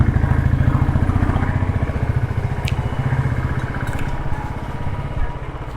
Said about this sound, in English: This bike is a BS3 bike, okay, so it still has that small bit of the punchy sound.